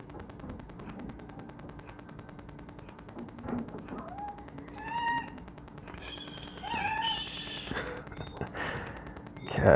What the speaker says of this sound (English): Cats, cats, cats, cats.